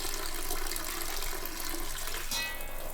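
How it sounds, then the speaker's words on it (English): Soybean sprouts get rinsed under cold running water in a kitchen, a steady rushing splash of water pouring from the tap for the full few seconds, with no talking. "Rinse the soybeans in cold water."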